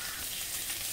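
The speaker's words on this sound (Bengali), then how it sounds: "পাঁচ ভাজা তেলে আমি এখানে পেঁয়াজটা দিয়ে দেবো।" Onion fries in hot oil in a pan, a steady crackling sizzle, close and fairly quiet, continuing evenly throughout.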